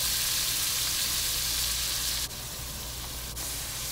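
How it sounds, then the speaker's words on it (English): Julienne onions frying in oil with whole spices for a branzino fish biryani produce a loud, dense, steady sizzle that dips slightly partway through, with no talking. "Add julienne onions,"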